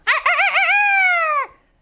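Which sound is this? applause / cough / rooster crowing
rooster crowing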